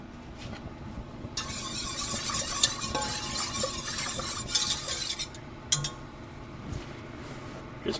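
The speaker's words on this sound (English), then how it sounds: "Just bringing that to a simmer so it finishes thickening." A sauce of soy sauce and apple cider vinegar simmers and thickens in a pan, giving a steady soft bubbling hiss with occasional light clinks of a utensil stirring close by.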